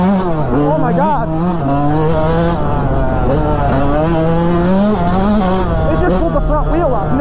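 A Yamaha YZ125X two-stroke motocross bike rides a motocross track, its loud, close engine revving and wailing up and down continuously through gear changes.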